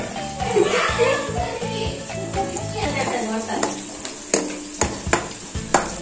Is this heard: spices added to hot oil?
yes